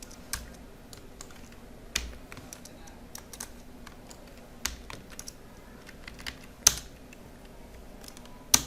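Computer keyboard typing while coding a Java app in Android Studio: moderately loud, irregular keystrokes and sharper key taps scattered over a faint, steady background.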